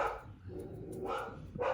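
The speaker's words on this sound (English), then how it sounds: "That is the cat bark." A dog barks rapidly at a cat, three quick barks in succession close to the listener, over a low background hum.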